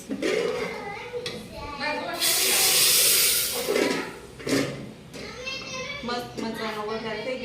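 Spices, asafoetida and red chilli, sizzle as they hit hot oil for a home tempering, a loud bright hiss swelling for a couple of seconds amid ongoing talk and children's voices.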